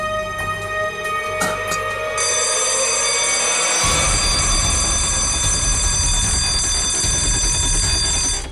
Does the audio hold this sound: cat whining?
no